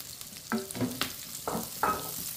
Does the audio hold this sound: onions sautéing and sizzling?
yes